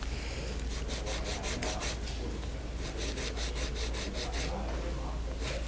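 Sandpaper rubs back and forth on a ceramic pendant in two runs of quick, even rasping strokes over a steady low background hum.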